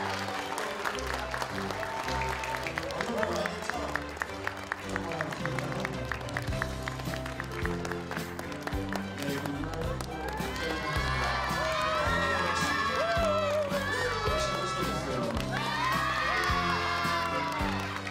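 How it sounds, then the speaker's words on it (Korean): An audience at a Children's Day football event applauds and cheers for a guest, with sustained clapping, whoops and children's shouts building louder in the second half over background music. "우리 송정구 아저씨 큰 박수."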